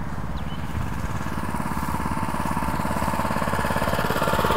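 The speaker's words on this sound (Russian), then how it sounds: "Мотоблок у нас уже заведенный." The engine of a walk-behind tractor runs steadily close by, a continuous rapid chugging drone that rises slightly in loudness toward the end. No one speaks.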